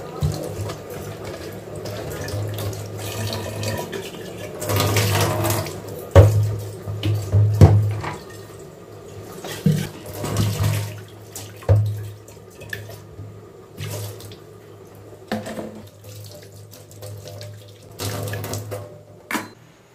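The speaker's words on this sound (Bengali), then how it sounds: "এই যে ফ্লাক্সটাও একটু ধুয়ে নেব।" A flask being washed under a running kitchen tap, steady water flow with louder splashes and clunks as the flask is handled, close and moderately loud.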